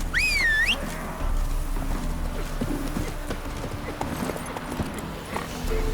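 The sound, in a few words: Roach the horse galloping in The Witcher 3 video game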